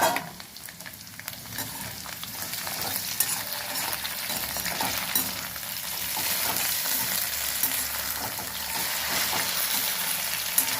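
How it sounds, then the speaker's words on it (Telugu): Vegetables fry in hot oil for a spinach and potato curry, giving a continuous bright sizzle with occasional stirring scrapes, close and steady throughout. "చూసారా నూనెలో ఇలా ఫ్రై చేయాలి"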